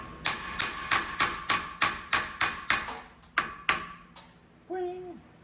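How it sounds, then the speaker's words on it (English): A brass hammer strikes the front axle of a Land Rover 110 under repair, about a dozen sharp metallic blows in a steady rhythm, close and loud, followed by a brief voice. "Brass hammer."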